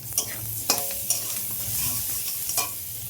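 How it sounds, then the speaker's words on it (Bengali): Garlic and onion frying in a pan, with a steady sizzle under a few sharp stirring scrapes and clinks of a spatula, close by and without talk. "দেখো রসুন পেঁয়াজ ভাজা হয়েছে"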